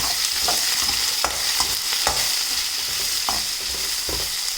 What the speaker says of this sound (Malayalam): ഉള്ളി ഇട്ട് കൊടുത്ത് നല്ലപോലെ വഴറ്റിയെടുക്കാം